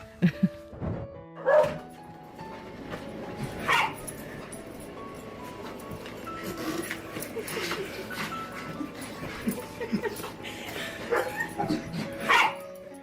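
A dog reunited with its owner after his year-long deployment in Afghanistan gives excited whimpers, yips and short barks that come and go over steady background noise, with faint human voices nearby.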